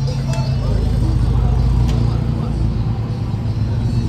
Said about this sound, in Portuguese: Aí, tá manobrando o Jetta.